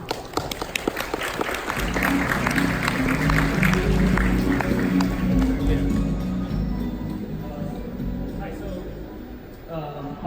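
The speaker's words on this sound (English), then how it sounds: "please welcome him with a big round of applause" An audience at the Asian Leadership conference breaks into a big round of applause to welcome Binance co-founder Changpeng Zhao, dense clapping swelling after a moment and carrying on, with music and voices underneath, then tapering off.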